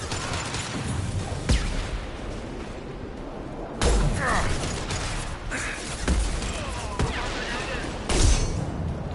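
Gunfire in the sci-fi shooter Mass Effect 2, repeated sharp shots and bursts in irregular clusters over a busy combat background.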